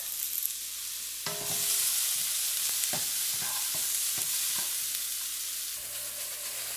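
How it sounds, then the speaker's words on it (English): A cup of chopped onions browning in a pan for beef curry: a bright, steady sizzle with repeated scraping stirs and light knocks of the utensil, close up and without speech. "Next, we're going to brown up 1 cup of chopped up onions."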